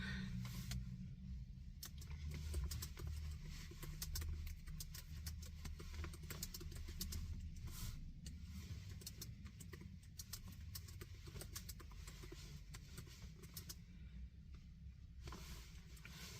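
A steady, faint low engine rumble heard from inside a car while it runs, continuous and even throughout with no talking.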